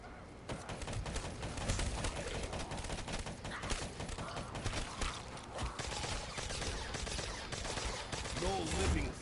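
Rapid sustained gunfire in the shooter Black Ops 3, a dense stream of crackling shots that runs without pause for several seconds, with busy game noise beneath.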